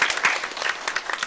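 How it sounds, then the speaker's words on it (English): Applause from the audience at a Cuyahoga Falls City Schools board of education meeting, welcoming a student. Steady, fairly close clapping from a small crowd fills the short stretch without any voices. "you can give her a round of applause"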